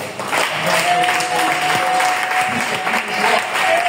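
A church congregation claps and cheers loudly in praise, a dense roar of applause with voices and a sustained tone running through it.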